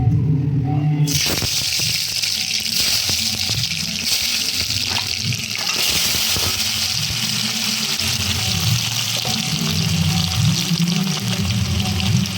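Boiled potatoes go into hot oil one by one for chicken biryani, making a continuous watery sizzle with clattering drops and thumps as pieces land, all close and fairly loud without speech.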